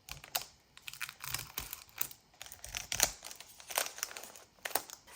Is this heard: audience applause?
no